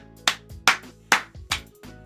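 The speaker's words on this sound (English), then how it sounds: "Family will think I'm crazy for clapping, but that's me. I claps like that." Four sharp hand claps in a steady rhythm, each about half a second apart, close and fairly loud in an otherwise quiet room.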